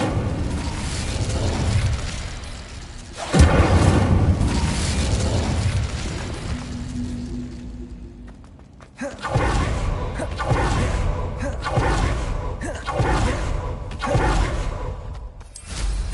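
An Incendio fire spell bursts in Hogwarts Legacy with a loud whooshing blast, fades over several seconds, then further rumbling combat effects follow after a brief near-silent gap.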